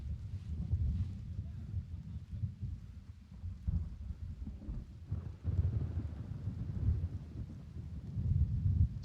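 Thunderstorm in the Gray Zone Warfare video game, with deep rolling thunder rumbles and steady rain and wind noise running throughout, swelling louder in several surges.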